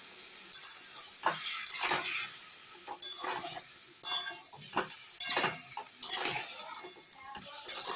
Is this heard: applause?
no